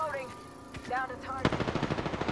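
Apex Legends gunfire: after a brief stretch of game voice, a rapid automatic burst of about ten evenly spaced shots rings out loud and close.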